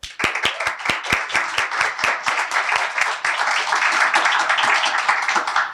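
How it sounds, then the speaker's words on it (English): Guests at an annual awards dinner applauding, starting with a few loud distinct close claps that quickly swell into dense, sustained clapping across the room. "Please give a warm round of applause to Corey Dume."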